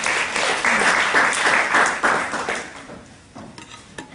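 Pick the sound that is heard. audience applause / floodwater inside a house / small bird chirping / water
audience applause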